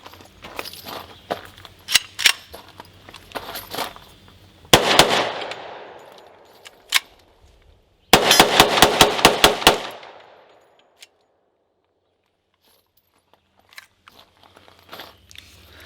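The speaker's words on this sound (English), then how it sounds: "I want to try rapid fire real quick" Rapid fire from a Hi-Point 10mm JXP pistol outdoors: a burst of sharp, loud shots near the start, a second tight string of about seven quick shots around eight seconds, then faint scattered sounds.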